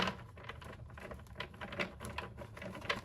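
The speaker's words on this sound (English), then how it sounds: "let's go ahead and get one more shuffle." Tarot cards are riffled and shuffled quietly at close range, giving a soft, rapid patter of papery flicks for a few seconds.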